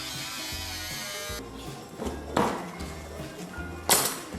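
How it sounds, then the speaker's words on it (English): A buzzing power tool cuts off the bottom of a custom FB Holden's fender. The steady high whine is close and loud, and its pitch and strain shift through the cut, with a few sharper bursts and no voices. "cutting off the bottom of the fender, ready to weld in the new panel"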